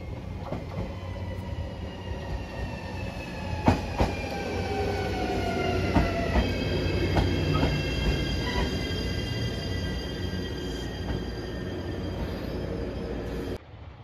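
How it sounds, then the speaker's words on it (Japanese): A JR Shikoku 7200 series local train pulls into a station on the Yosan Line in Ehime. Its low rumble and rail clicks run under several sustained high wheel-squeal tones that build steadily before cutting off. "7200系普通電車が来ました。"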